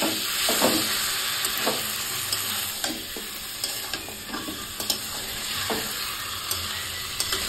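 Chicken pieces fry in a pan with a spice paste of dried chili and ground cumin, a steady close sizzle broken by repeated sharp scrapes and knocks of stirring, no voices.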